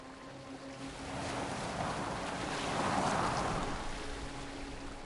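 A boat gliding over water in the video game Assassin's Creed Valhalla, a soft steady wash of water and wind that swells gently in the middle and stays fairly quiet, with no talk.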